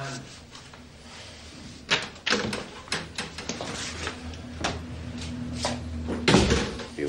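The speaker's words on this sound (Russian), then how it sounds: "Ну, открывай дверь, парень." A door being opened in a crime drama scene, a series of clunks and knocks with a louder bang near the end, heard under background room tone.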